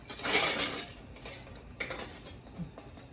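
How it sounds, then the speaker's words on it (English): Broth poured into a hot pan for deglazing while making clam chowder, giving a short burst of hissing sizzle that fades into softer sizzling with a few light metal scrapes. "So I'm deglazing this pan"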